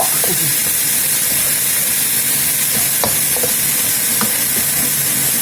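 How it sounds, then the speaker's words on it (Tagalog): Pechay (bok choy) sautéing with garlic in a hot pan, a loud continuous sizzle and hiss with occasional stirring scrapes and pops, close up and without talk. "dito naman sa kabila, nagigisa ako ng gulay niya"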